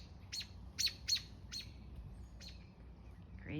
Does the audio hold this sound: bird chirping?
yes